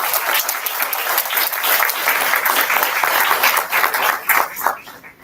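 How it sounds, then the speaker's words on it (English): Sustained applause at a board meeting: many hands clapping together in a loud, dense patter that holds steady for several seconds, then thins to a few scattered claps at the end. "we want to give her a big applause."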